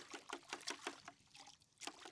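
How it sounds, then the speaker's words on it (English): Clean water runs through a Graco 695 paint sprayer during cleanup, giving faint, quick bursts of splashing and trickling in a loose rhythm, with brief pauses between spurts. "Let's run it through some clean water."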